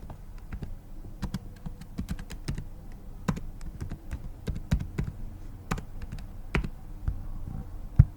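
Fingers type on a computer keyboard in quick, uneven bursts of light key clicks, close and fairly quiet, with a slightly louder tap at the end.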